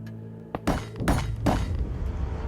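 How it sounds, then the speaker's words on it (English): Springtrap entering a vent in a Minecraft build of FNaF 3 gives a series of three sharp crashing, shattering clanks, each decaying quickly, loud and close over a faint hum, with no talking. "And it'll sound like this when he enters a vent."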